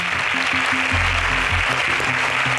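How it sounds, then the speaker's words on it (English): Steady, dense applause rings out for a contestant on a national agricultural science quiz show, with low background music tones running beneath it. "A round of applause for Lekon"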